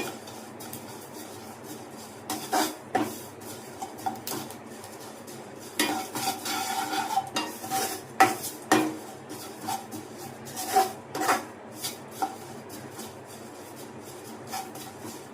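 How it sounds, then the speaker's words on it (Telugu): Grated coconut stir-fried in a pan: irregular scrapes and clinks of a utensil against metal come in bursts over a faint background sizzle, close by with no voices. "దీంట్లోనే కొంచెం కొబ్బరి తురుము కూడా యాడ్ చేసి ఫ్రై చేద్దాము."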